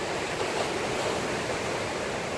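Ocean surf at Surfers Point on a calm, sunny morning near high tide, heard as a steady, dense wash of breaking waves, fairly loud and continuous with no talk.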